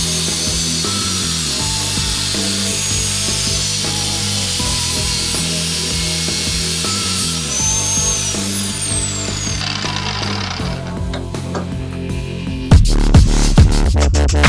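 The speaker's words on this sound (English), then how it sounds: "it's a precision cut and he's really good at working with the grinder" Angle grinder cutting a section out of a metal plate for an English wheel build, a loud continuous high whine with shifting pitch that drops out near the end, followed by a few heavy knocks.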